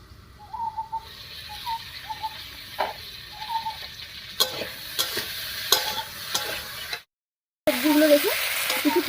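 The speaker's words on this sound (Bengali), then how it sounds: "এবারে ঢাকাটা খুলে পুঁই শাকটা দেবো" Malabar spinach with pumpkin sizzles in a pan as a spoon stirs it, soft scraping strokes and occasional clicks over a low, steady frying hiss, with a brief silent gap near the end.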